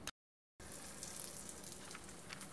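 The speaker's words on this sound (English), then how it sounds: "I'm just going to put them in a hot pan with oil," Arepas fry in a hot pan with oil, giving a steady, fairly faint sizzle with a soft crackle. A brief gap of silence comes near the start.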